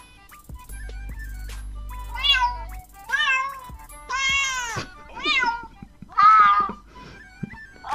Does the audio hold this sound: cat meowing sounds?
yes